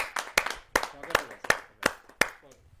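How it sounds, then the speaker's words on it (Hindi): Sparse clapping at a Hindi poetry gathering welcoming a poet, about seven distinct, evenly spaced sharp claps from a few hands, close and fairly clear with a faint voice murmuring between them. "आप सबकी जोरदार तालियों के साथ में।"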